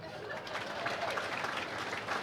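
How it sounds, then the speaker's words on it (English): Steady, full applause from the audience at a college athletics hall of fame induction ceremony, a dense even wash of clapping throughout. "Give them all one big round of applause"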